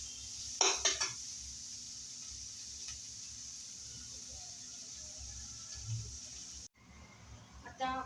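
Onion frying in a pan for an Indian kardai bhaji, with a few clinking scrapes of a spoon against the metal early on over a steady low sizzle, then a brief cut and more faint stirring.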